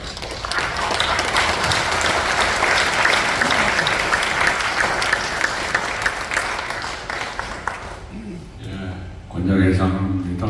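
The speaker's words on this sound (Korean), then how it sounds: "나오실 때 우리 박수로 맞이하겠습니다" Loud, dense audience applause at a memorial worship service greets a speaker coming forward, then thins out near the end as voices and a microphone bump take over.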